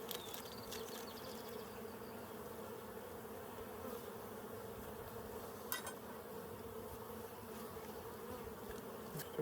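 Honey bees buzz steadily and continuously around an open hive in a Colorado apiary, a dense, even drone of many insects at close range with no voices.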